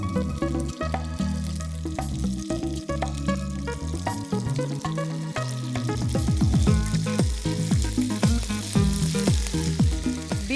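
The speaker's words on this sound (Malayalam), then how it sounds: "വെളിച്ചെണ്ണ നല്ല ചൂടായി കഴിയുമ്പോൾ കടുക് ഇടുക." Mustard seeds and dried red chilies crackle and pop in hot coconut oil, a dense, continuous sizzle with sharp spattering bursts growing busier toward the end.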